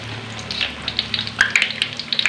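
Banana slices frying in hot oil, a close, steady sizzle with irregular crackles and pops scattered over a low background hum.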